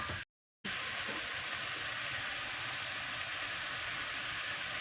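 Mushrooms frying in a small pan give a steady, close sizzle that runs on evenly, broken once by a short silent gap near the start.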